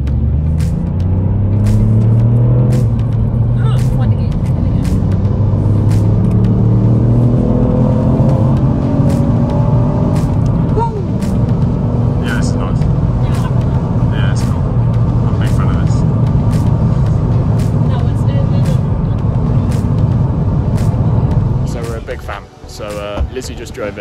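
Ford Fiesta ST engine pulling hard on the road, a loud sustained cabin drone and rumble with rising revs and gear changes, tyre and road noise beneath, people talking over it.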